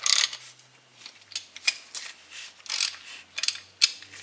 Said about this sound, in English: I'm gonna just run them down by hand with a 1/2" ratchet